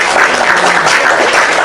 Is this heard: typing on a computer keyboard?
no